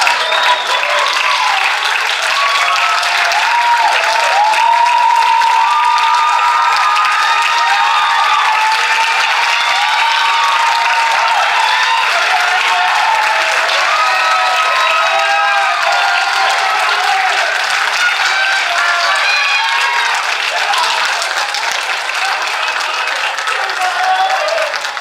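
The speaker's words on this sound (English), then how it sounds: "Can I get all the poets on stage for one more big round of applause" A poetry slam crowd gives the poets on stage long, loud applause mixed with cheers and whoops, the clapping dense and continuous with scattered shouts rising over it.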